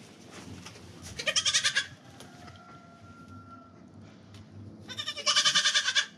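Baby goats in a goat pen let out two bursts of rapid, wavering bleats, close and loud, with quieter pen sounds and a faint tone between them.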